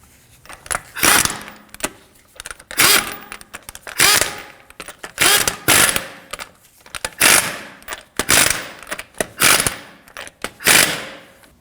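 Wheel lug nuts being snugged down by hand on a 2013-2015 Subaru XV Crosstrek after a rear sway bar link job, giving a steady run of loud ratcheting bursts about once a second, close up with no talk.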